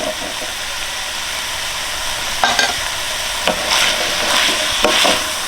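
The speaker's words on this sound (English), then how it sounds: "So the mince is no longer pink. The onions are soft, so we can add in our peas." Beef mince and soft onions sizzle in a pan, and peas are tipped in and stirred with several scraping, clattering strokes over a steady frying hiss.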